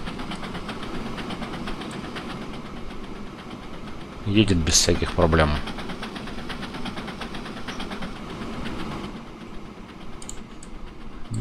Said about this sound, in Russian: Довольно шумный поезд.